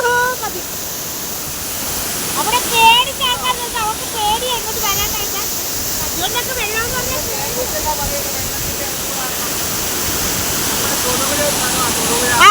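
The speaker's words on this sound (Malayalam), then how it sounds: "ഇത്രയും നല്ലൊരു വെള്ളച്ചാട്ടവും കാര്യമൊക്കെ ഉണ്ടായിട്ട് ആരും അറിയുന്നില്ലെന്ന് പറയാം" A waterfall near Thodupuzha roars as a constant, broad rush of falling water close by, while voices talk and call out over it through the first half.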